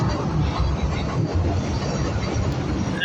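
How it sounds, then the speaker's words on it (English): A train rolls past on a Chicago street with a steady, continuous rumble and roar of wheels on rails, close and fairly loud, with no talk over it. "That's a train right there"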